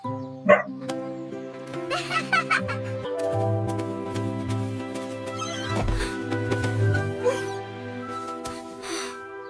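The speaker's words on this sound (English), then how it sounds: "The dog is so excited." An excited dog barks in quick bursts during kite flying, the yaps scattered through a bright music bed with voices.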